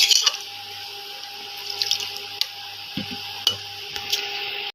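Water poured into a pot of soybean curry during cooking, a steady close splashing hiss with a few small clinks, no talking.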